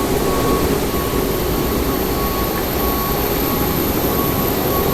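Jet airliner engine roar at Frankfurt airport during a go-around, a loud, steady broadband rumble and hiss that holds unbroken from start to end with no voices.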